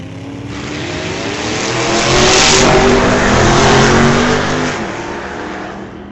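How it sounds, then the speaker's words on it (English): A 1950 Chevy and a 1957 Chevy launch side by side at an old-time drag race, engines roaring loudly as they accelerate past, swelling to a peak mid-run and then fading slightly. "David Francisco in the 50 Chevy, facing off against Carl Jameson in the 57 Chevy"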